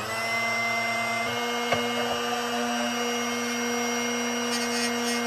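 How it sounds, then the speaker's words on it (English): Electric drill bit sharpener motor running with a steady, close whine and hum, with a couple of faint clicks partway through. "So we're going to turn our sharpener on."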